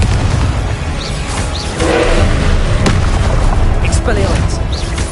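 In Hogwarts Legacy on PS5, a Confringo fire spell bursts with a loud boom and crackling roar, followed by sharp impacts in a noisy, continuous battle din.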